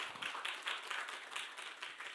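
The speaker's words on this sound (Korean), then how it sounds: "좋은 발표해 주신 임충환 부처장님께 다시 한번 박수를 부탁드립니다" Audience applauding at a Kongju National University forum, steady dense clapping from a crowd, moderately distant and even throughout without any speech over it.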